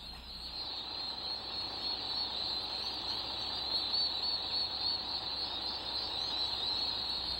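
Turkeys in a heated barn produce a continuous, faint mass of gobbles and chirps, a busy flock chatter without distinct individual calls.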